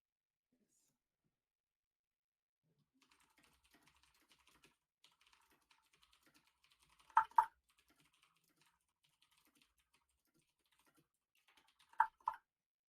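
Soft, sparse taps on a computer keyboard come through in a quiet room, broken by two louder clusters of sharp keystrokes about five seconds apart, with no talking.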